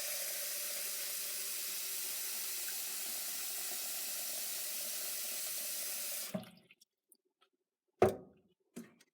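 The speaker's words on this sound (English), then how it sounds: "fill it up with your cold water." Cold tap water pours steadily into a bowl for about six seconds, then the flow stops and a few short clunks follow.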